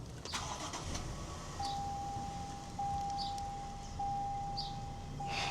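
A Toyota Tundra pickup starts up, heard as a quiet engine crank and idle from inside the cabin, with a steady electronic tone and a few faint clicks over low rumble.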